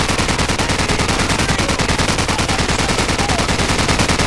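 Enemy machine gun fire in Call of Duty: Modern Warfare, a dense, continuous stream of rapid automatic shots filling the whole stretch, loud and close with no pauses.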